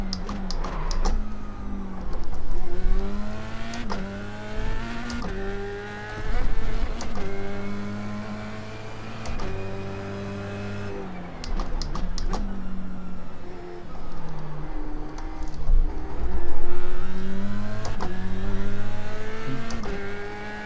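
An F3 race car in the iRacing sim at Lime Rock, its engine revving loudly and rising and falling in pitch through upshifts, downshifts and chicanes, continuous with no talk.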